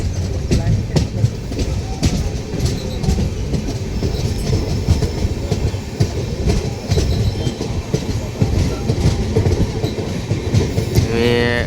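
A train rolls along the rails with steady rumbling and rhythmic clickety-clack from the wheels, loud and close throughout, with a brief squeal near the end.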